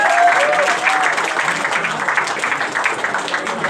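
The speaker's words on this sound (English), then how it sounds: "One more round of applause." An audience at a film-pitching summer social breaks into a round of applause, a steady dense clatter of many hands at fairly loud level, with a faint tonal sound near the start.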